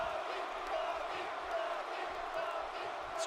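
Wrestling arena crowd in WWE 2K18 during The Rock's match, a steady distant roar of many voices with occasional shouts, lying under a commentator's talk.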